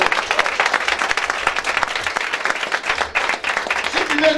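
A church congregation applauds during a service, with steady dense clapping from many hands throughout, mixed with crowd voices and loud and close.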